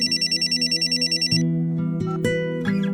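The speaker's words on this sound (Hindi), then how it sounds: "तुम्हारा फोन बज रहा है" A telephone rings with a fast electronic trill that cuts off, followed by a few quieter tonal beeps and clicks.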